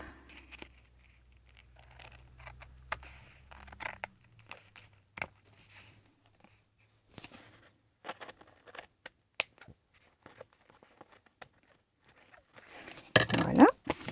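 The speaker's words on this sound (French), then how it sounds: "Alors, mon ciseau." Scissors snip through lace in a craft project, with a series of short, crisp cuts that grow busier and louder near the end, heard close up with no talking.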